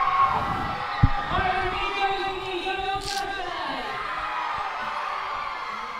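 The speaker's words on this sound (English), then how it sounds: "Look at the roar of the crowd." A crowd at a live cricket match finish roars steadily, with whoops and a few sharp knocks, while a commentator talks over the noise.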